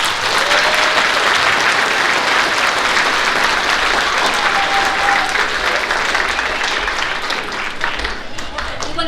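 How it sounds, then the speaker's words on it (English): Loud, continuous audience applause for fourth graders and their teachers after a school patriotic musical, a dense wall of clapping that holds steady for about nine seconds. "would y'all give Mrs. White and our rotation teachers and our fourth graders another big round of applause?"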